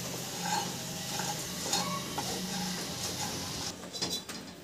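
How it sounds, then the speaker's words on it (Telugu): Puffed rice tossed with salt, turmeric and chili powder frying over low heat in a pan, a steady soft sizzle with intermittent stirring scrapes, close and moderately quiet, no talking. "కొంచెం స్లో హీట్ లో ఫ్రై చేసుకోండి ఫ్రెండ్స్ మరమరాలని"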